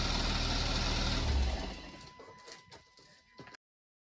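A 2015 Porsche Macan engine idles steadily at close range for about a second and a half, then is shut down, fading into faint clicks and rattles before silence.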